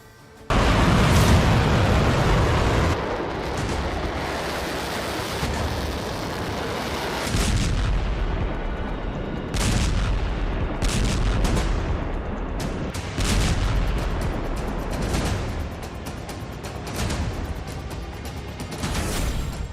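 Repeated heavy booms and blasts from Israeli airstrikes on Lebanon roll out one after another, some with long rumbling tails and sharper cracks between them.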